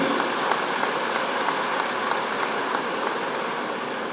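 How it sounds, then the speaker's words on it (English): Applause from a large audience at Kalinga Stadium in Bhubaneswar for the Chief Minister during the Odisha Skill Conclave 2023, a steady dense wash of clapping lasting about four seconds with no talk. "Give a big round of applause for Honorable Chief Minister Sri Naveen Patnaik ji"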